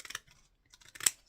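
Scissors snip through paper scraps in a craft session, a few short crisp cuts close by with a brief pause between, the last snip sharpest.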